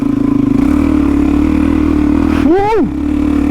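A motorcycle engine labours on a steep high country hill climb in Victoria, holding a steady loud drone close by, then the pitch jumps and wavers briefly as gears are fumbled.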